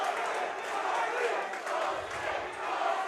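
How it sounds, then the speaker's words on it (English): A home crowd at a fight event chants in a loud, rhythmic roar that swells and dips, with a commentator's voice talking over the noise. "The crowd chanting, Boston,"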